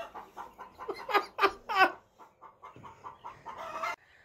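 Chickens cluck close by in a quick, uneven series, with a couple of louder squawking calls in the middle and softer clucks trailing off.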